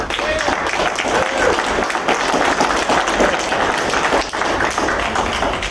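An audience in a team contest claps and cheers together, a dense, sustained roar of applause with shouts mixed in, loud and unbroken throughout.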